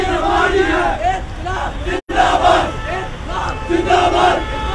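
Dense crowd of protesters in Bathindi, Jammu, shouting slogans in rhythmic unison against an anti-encroachment drive, loud and close with a brief break midway.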